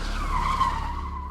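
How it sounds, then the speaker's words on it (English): Car tires screech to a halt on a road at night, a single sustained squeal that rises then fades over a low engine rumble, fairly close and loud, with no voices. "The car screeches to a halt in front of me."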